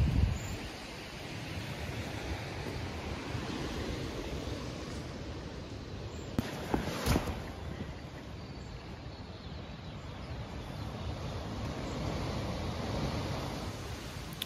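A strong, cold wind at a mountain campsite roars as a steady, close, full-bodied rush, with one brief gusty buffet midway through and no talking.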